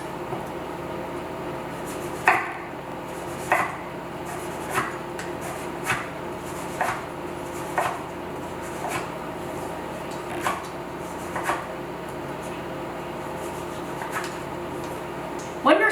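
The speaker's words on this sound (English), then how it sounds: "one by one, we're gonna slice our pears about 3 to 4 millimeters thick" A knife cuts through pears on a cutting board, slicing them thin, giving a steady series of crisp, evenly spaced chops about once a second, close and clear over a quiet room with faint talk.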